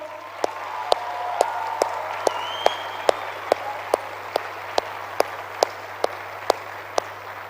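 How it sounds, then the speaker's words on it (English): A stadium audience claps for young chief guests at an evening youth event in New Delhi, with a regular, evenly spaced clap over a broad crowd wash and steady hum, moderately loud throughout. "can we give them a round of applause"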